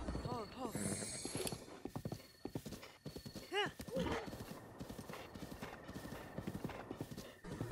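Horse hooves clip-clop steadily through the Breath of the Wild video game, with a horse's whinny partway through, all under ongoing talk from a player.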